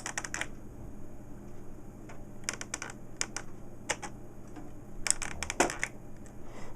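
Keys clack in short bursts on an HP Digital Entertainment Center Z545 computer keyboard, irregular clusters of crisp presses separated by brief pauses, close and fairly quiet over a low electrical hum.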